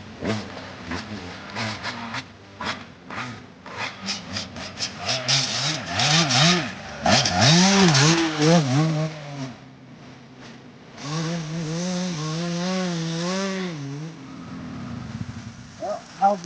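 A dirt bike fitted with a bubble wrap tire rides over uneven mulch whoops, engine revving and bogging in waves with scraping, rubbing crunches from the tire over a long stretch, rising and falling as the rider crosses the bumps.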